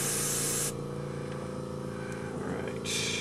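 Airbrush spraying paint onto a paper backdrop, a steady loud hiss at the start that drops to a quieter background for most of the stretch, then surges back near the end.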